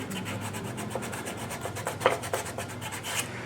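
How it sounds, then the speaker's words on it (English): Sandpaper rubbing a pinball flipper plunger part on a Bally Paragon machine, a steady close scratchy rasp with repeated strokes and a few sharper scrapes. "let me hit this with a little bit of sandpaper."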